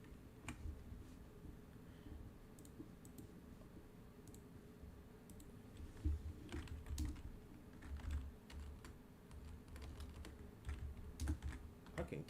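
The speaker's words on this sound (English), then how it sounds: "I can't type today, bro." Quick, irregular clatter of typing on a clunky computer keyboard, fairly faint and close, with keys clicking in uneven runs and a few louder thumps, no talking.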